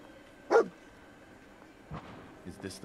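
The dog companion in Fallout 4 gives one sharp bark, then a few softer yips and whimpers a moment later, over a quiet game background.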